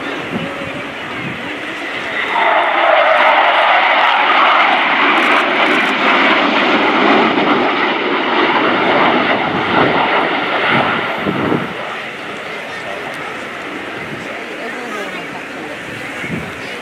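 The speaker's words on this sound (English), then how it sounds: "Ben and Toby present a different view of the Hawk T2 as they fly for you a topside pass." Two BAE Hawk T2 jets sweep overhead in a topside pass at the Royal International Air Tattoo, a loud sustained roaring rush that swells, holds for several seconds, then fades into distance.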